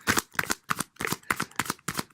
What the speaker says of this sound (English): I'm going to give them a good shuffle